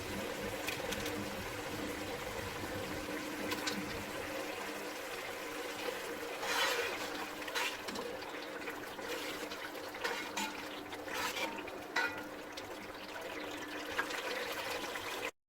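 Soaked tamarind paste with water is poured into a cooking pot while making degi yakhni beef pulao, giving a steady close-up trickle and splashing of liquid that runs throughout with a few brief louder sloshes.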